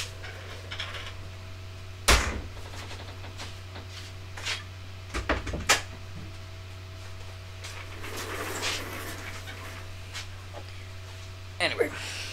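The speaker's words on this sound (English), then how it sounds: "I gotta close my door." An indoor door or cupboard is shut, giving a few sharp knocks and thuds spread over several seconds, with a person talking in the room and a steady electrical hum underneath.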